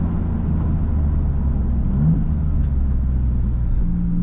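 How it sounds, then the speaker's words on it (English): The engine of a 2024 Maserati MC20 Cielo supercar hums with a low, steady rumble from inside the car, a brief pitch change marking a gear shift midway. "It just does not miss a beat on the gear changes."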